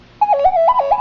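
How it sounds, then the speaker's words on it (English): A phone ringtone sounds loud and close, a short electronic melody of warbling tones that starts abruptly and plays alone. "new ringtone"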